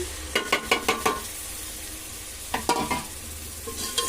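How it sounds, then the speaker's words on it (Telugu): Mutton biryani masala with yogurt is stirred in a pan, a burst of quick rhythmic scraping strokes, then a quiet pause, then another short run of stirring over a faint background sizzle. "మొత్తం కలుపుకుంటున్నాను"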